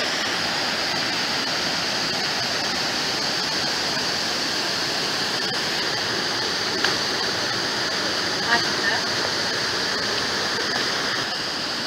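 Kuang Si waterfall near Luang Prabang, a steady dense roar of falling water, loud and unbroken throughout with a couple of faint knocks.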